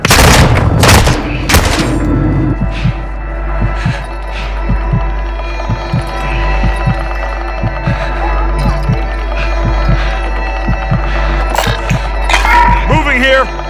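Call of Duty DMZ gunfire on Al Mazrah comes as scattered sharp shots and short bursts over a deep steady hum, with people talking throughout.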